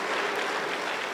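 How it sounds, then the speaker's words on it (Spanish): Pentecostal church congregation applauding together, a dense, steady wash of clapping that carries on without a break at moderate loudness, with no voices standing out. "Aplauso para el Señor Jesús."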